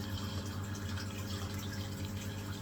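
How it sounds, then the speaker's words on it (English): A noisy bathroom sink with water running and splashing, giving a steady, dense rushing hiss with a low humming drone underneath, constant and close throughout with no talk. "So our sink is actually really noisy."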